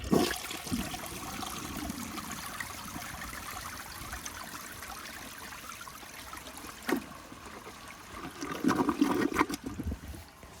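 A restored 1978 Eljer Emblem toilet flushes a washcloth down, giving a steady rushing swirl of water that stays fairly soft, followed by gurgling and trickling as the bowl drains and refills.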